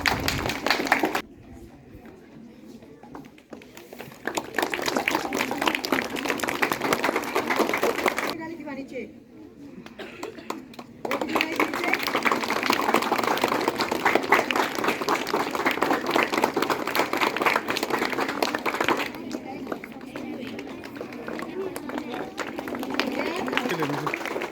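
Audience at a school Children's Day celebration clapping, sustained dense applause from a crowd that swells and dips in waves across the stretch, with a voice talking through parts.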